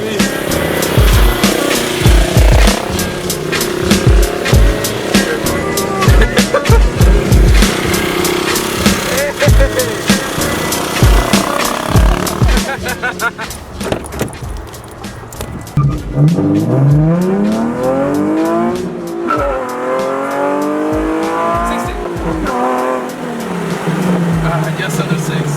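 Nissan 370Z Base and Nismo launching and racing, loud engines revving hard with rising gear-by-gear sweeps, rapid pops and tire noise, then pulling away into the distance, with people talking over it at times.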